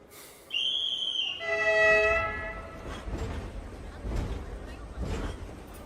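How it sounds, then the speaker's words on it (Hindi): A train passes close by, opening with a loud sustained horn blast in stacked tones that gives way to continuous rumbling wheel and carriage noise with rhythmic clacks. "ओए, ट्रेन जा रही है।"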